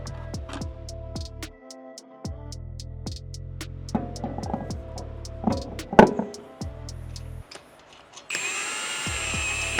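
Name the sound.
power tool with 10mm socket securing lower control arm cover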